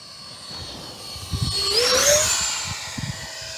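An E-flite Viper 64mm RC jet streaks past, its high turbine whine rising in pitch and swelling louder as it nears, then fading away, over a rumble of wind buffeting the microphone.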